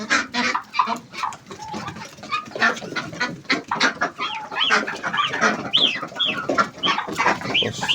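A flock of farm ducks let out into the yard, filling it with a dense, close chorus of quacks and clucks that runs throughout.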